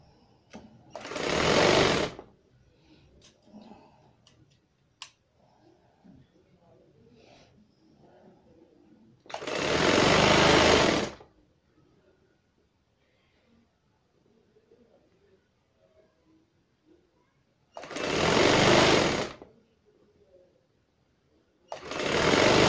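A sewing machine stitches trouser seams in bursts of about two seconds each, four loud close runs separated by quiet gaps with faint handling noises and soft bird coos.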